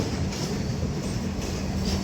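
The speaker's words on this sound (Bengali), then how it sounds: "আমাদের ট্রেন এখন ঢুকছে আসানসোল জংশনের দিকে" Humsafar Express train running into Asansol Junction on its Jammu to Sealdah journey: a steady, continuous low rumble of rolling wagons with faint wheel clatter, loud and unbroken throughout, with no voices.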